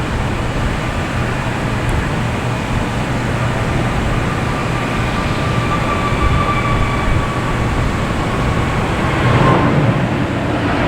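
An Avianca Airbus A320neo jet airliner at Boston Logan gives off a loud, steady engine roar with a faint whine riding on top, continuous throughout and swelling slightly near the end.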